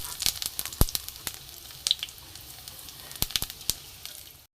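Whole garam masala, a bay leaf, a dried red chili and cumin seeds sizzle in hot oil for a fish roe curry, a soft steady hiss broken by sharp crackling pops.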